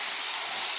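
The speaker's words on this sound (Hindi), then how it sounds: "अब हम इसको सर्विंग बाउल में तड़का दे देंगे।" A steady, bright hiss of hot oil tempering sizzling as it hits mixed dal in a serving bowl, continuous and close with no talking.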